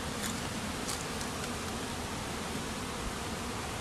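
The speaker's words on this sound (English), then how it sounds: "Lots of bees out flying." Many honeybees fly around their hives on a warm day, a steady, even buzzing hum with no voices.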